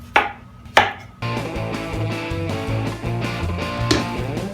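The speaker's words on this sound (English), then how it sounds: "let's start chopping our plantains and our cilantro" Two sharp knife chops through plantains and cilantro on a cutting board, then fainter chopping continues under a steady musical background.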